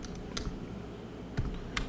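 Fingers type on a computer keyboard with a faulty equals key, producing a few sparse, faint keystroke clicks over soft room noise.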